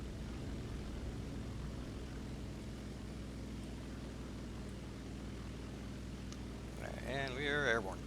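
An SBD Dauntless propeller plane takes off in War Thunder, its engine droning steadily at a fairly low level with a harmonic buzz, before a brief rise of higher whining tones near the end.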